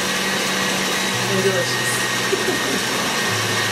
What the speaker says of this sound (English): I'm gonna mix those together until they are nice and creamy